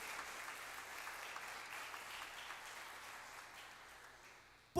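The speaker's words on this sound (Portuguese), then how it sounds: "Pode aplaudir ao Senhor." A church congregation applauds, a soft, distant, steady patter of clapping that fades slightly before a sudden loud bump at the very end.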